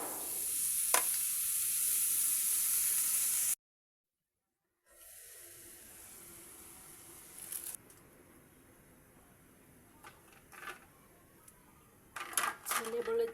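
Sweet bottle gourd goes into a hot pan with prawns, a steady hiss of sizzling that cuts out briefly, then a quieter frying sizzle with scattered clinks and stirring, while a person talks.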